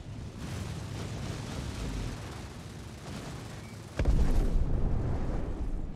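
Explosions in a Star Citizen space fleet battle: continuous rumbling battle noise with a sharp, loud blast about two-thirds through, followed by heavier booming that stays dense and low.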